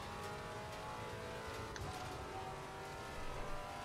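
GT4 race car engine revving around Bathurst in Assetto Corsa Competizione, a steady, fairly close engine drone with slight swells in pitch, heard alone with no talk.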